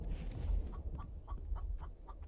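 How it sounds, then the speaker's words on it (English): Chicken clucking in the video game The Infected, a quiet series of about six short rhythmic clucks evenly spaced over low background rumble. "I hear you, chicken."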